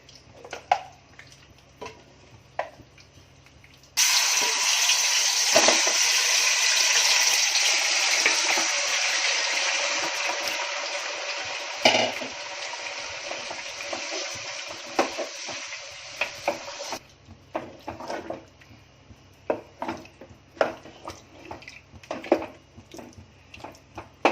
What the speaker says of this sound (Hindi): अब तेल गरम हो गया। अब इसमें जाएगा अपना